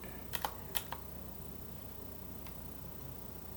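Typing on a computer keyboard: a short burst of four or five crisp key clicks near the start, then one more isolated tap, close and fairly quiet over a faint background hiss, with no talking.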